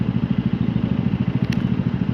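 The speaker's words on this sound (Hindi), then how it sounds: "रेड लाइट यजदी बाइक है, ट्विन सलेंसर के साथ।" Yezdi motorcycle with twin silencers idling close by, a steady low, thumping exhaust beat with an even rapid rhythm, loud and alone.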